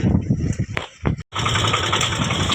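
A tractor stuck in deep, sticky mud keeps its engine running. A few irregular knocks and bumps come first, then after a brief drop-out the engine settles into a steady, close, continuous rumble.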